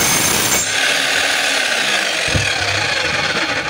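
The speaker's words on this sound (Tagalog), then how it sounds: "So iti-testing natin yung kanyang hammer kung malakas." A DeWalt D25899 10 kg electric jack hammer runs on test, a loud continuous hammering roar held steadily through the whole stretch with a slight shift partway, no speech over it.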